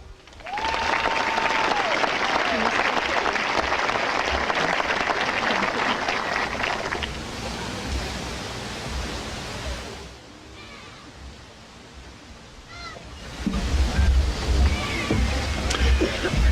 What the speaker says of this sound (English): a round of applause for our 5 class of 2014 salutatorians